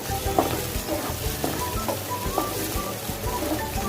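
Meat and vegetables with carrot and tomato fry steadily in a pan, a continuous close sizzle with occasional scraping stir clicks throughout.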